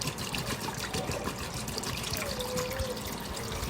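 Leftover water is poured out of a container in a steady, soft trickle that runs for a few seconds, quiet and close, with no speech over it.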